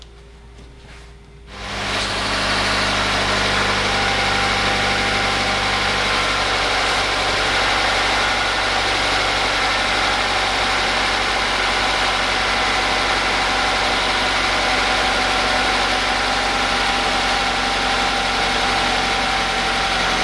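A cold car engine catches after a quiet moment and settles into a steady, loud idle with a constant low hum and vibration that runs unbroken to the end.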